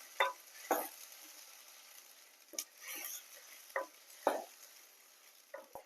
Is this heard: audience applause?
no